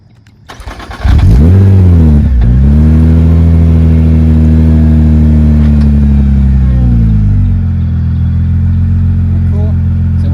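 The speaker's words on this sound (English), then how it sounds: "let me start the car up real quick and we'll see it one more time" A Nissan GTR starts with a short crank, then the engine catches into a loud, steady idle with a few revs rising and falling, heard close up with no talk over it.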